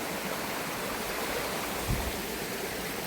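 A small mountain stream in a Transcarpathian village flows with a steady, even rush of water, close by and continuous, with no voices over it.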